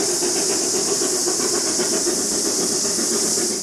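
Steam locomotive AB608 Passchendaele gives off a steady, loud, continuous hiss of escaping steam, heard close up with no break.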